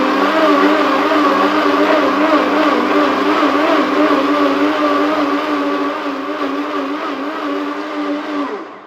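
A food mixer blends a yeasted, gluten-free rice-based bread batter in a steady, loud, continuous motor whir that holds for about nine seconds before stopping abruptly.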